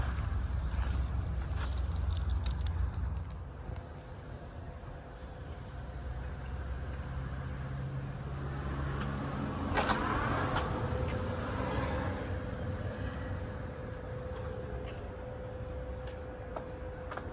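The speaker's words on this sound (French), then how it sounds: "ça fait du bruit parce que je suis dans une station de lavage." Steady, loud machine noise fills a car wash station, a continuous rumbling wash with a mechanical whir and occasional clicks running without a break.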